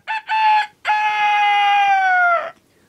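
A person imitating a rooster crowing, performed live in a studio show: two short clipped calls, then a long, sustained, strongly tonal crow that trails off, loud and close with no other talk.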